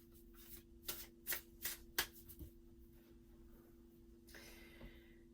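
Tarot cards being handled and drawn from a deck, several crisp riffling snaps in quick succession, then a softer slide of a card near the end, close and fairly quiet with no talking.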